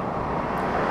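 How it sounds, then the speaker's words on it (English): Steady broadband road noise from cars on a busy street, a continuous wash of traffic rumble and hiss at moderate level with no talk. "Sorry about the car noise."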